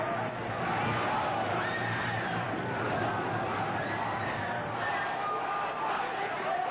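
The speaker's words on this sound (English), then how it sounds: "The crowd chanted, "The whole world is watching,"" A large protest crowd at the 1968 Democratic National Convention makes a dense, continuous roar of many voices with some shouting, sustained and loud throughout.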